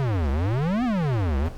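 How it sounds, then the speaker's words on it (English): Synthesizer tone with its pitch swept by a triangle-wave LFO, a buzzy note gliding smoothly down, up and down again in a steady linear zigzag for a second and a half before cutting off. "Let's listen to what a triangle wave sounds like."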